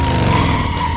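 A car in a film action scene, a bodyguard's vehicle, loses control and skids with a loud, continuous tire squeal and engine roar for the full second, heard alone without talk.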